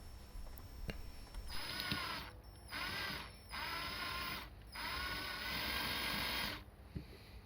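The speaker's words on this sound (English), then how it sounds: "The first thing to do is drill out the base." Small drill boring out the base rivet of a diecast Matchbox Volvo 760 model car, a steady whirring grind in three or four bursts of a few seconds each, close up, separated by brief pauses.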